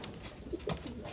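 A pigeon gives a soft, brief coo at close range, a low throaty call over quiet background.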